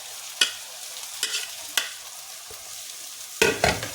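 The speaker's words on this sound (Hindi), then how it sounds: "अब डाल देंगे इसी में चिकन" Chicken pieces hitting hot fried onions in a pan for a shredded chicken dish, giving a few sharp sizzling bursts and stirring scrapes against a steady low hiss, close by, with no talking.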